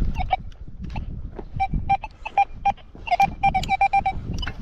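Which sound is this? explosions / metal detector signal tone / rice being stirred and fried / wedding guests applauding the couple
metal detector signal tone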